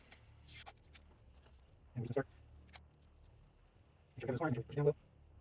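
Layers of tape wrapped around a small hardwood game piece, heard as short close bursts of crackly peeling and rasping, three separate pulls separated by quiet pauses.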